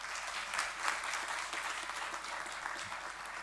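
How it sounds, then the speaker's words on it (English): Audience applause at a university engineering event, steady dense clapping from a large crowd throughout, even and moderately loud with no talk. "huge round of applause."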